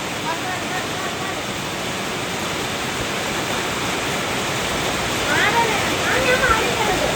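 Heavy rain and rushing runoff in a wadi in Oman make a thick, unbroken roar, swelling slightly toward the end, with a faint voice briefly audible beneath it.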